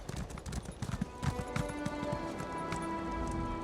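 Horse hooves clip-clopping during a ride in a video game, a quick uneven run of hoof strikes at first that settles under a sustained musical tone, fairly quiet.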